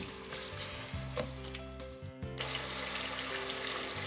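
Leek and other vegetables fry together in a pan for fried rice, giving a steady, close, dense sizzle throughout with a brief dip near the middle and a low stove hum underneath.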